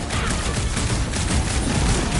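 Rocket's fireworks attack in the Guardians of the Galaxy game on PS5 sets off a dense, continuous barrage of crackling explosions and rapid gunfire-like bursts, loud and unbroken.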